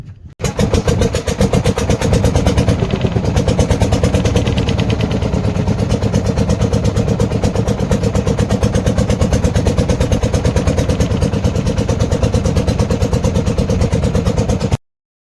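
Motor of a river boat setting off on the Mansai River, a loud rapid chugging clatter that starts abruptly and runs steadily and close for the whole stretch before cutting out.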